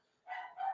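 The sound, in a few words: dog barking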